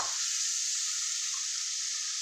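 Pakoras frying in oil give off a bright, steady sizzling hiss that starts abruptly and holds evenly at close range.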